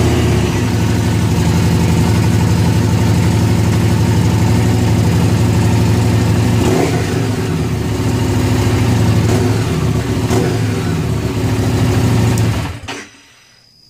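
A Harley Davidson Street 750 engine idles loud and close in a steady low rumble with a few small blips, then cuts off abruptly near the end.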